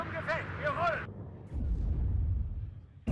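Artillery fire in the wargame WARNO: a low, rumbling volley of distant shell impacts rolls in after a moment of whining, tonal game sound, ending with a sharp crack.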